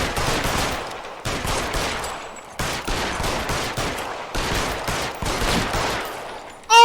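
Sustained bursts of gunfire in a shootout in the video game L.A. Noire, several long rattling volleys separated by short pauses, loud and close with no talking.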